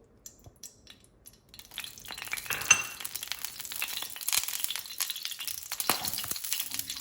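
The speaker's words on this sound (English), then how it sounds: "I'm going to pop in the remainder of that sesame oil" Sesame oil heating in a pan over a low burner, giving a soft continuous sizzle that swells after a quiet start, mixed with light clinks of a utensil against the cookware.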